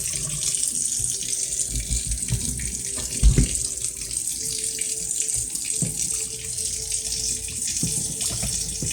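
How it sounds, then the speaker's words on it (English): Water gurgles and runs steadily down a sink drain just unclogged with a plunger, a close continuous flow with occasional small glugs and knocks. "Now it's draining just fine."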